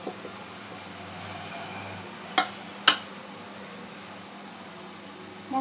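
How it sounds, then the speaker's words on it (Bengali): Onion, ginger and tomato fry with ground spices in a pan, giving a low steady sizzle with two sharp utensil knocks midway, close and moderate, with no talking. "মশলাটা ভালো করে কষে নেব পেঁয়াজ আদা টমেটোর সঙ্গে।"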